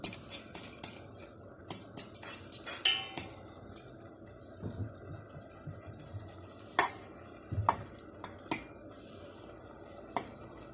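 Indomie instant noodles being stirred in a pot, with a utensil scraping and clinking against the metal in scattered taps and sharper knocks over a low cooking hiss.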